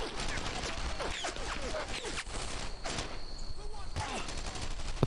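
Rapid gunfire from the video game Brothers in Arms: Earned in Blood rattles in dense, overlapping bursts throughout, loud and near, with a voice speaking over parts of it.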